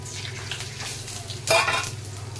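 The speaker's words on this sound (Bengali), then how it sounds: "এবার এই তেলেই পাঁচফোড়ন আর তেজপাতা দিয়ে দেবো।" Panch phoron spices and bay leaves hit hot oil in a pan with a steady close sizzle, flaring into a louder hiss about midway before settling back to a continuous frying crackle.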